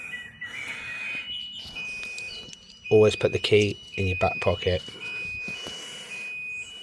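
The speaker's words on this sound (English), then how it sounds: "there's an alarm going off in the background" A battery-powered alarm sounder beeps steadily in the background during a consumer unit upgrade, a thin continuous tone that stays faint and constant while someone speaks briefly over it.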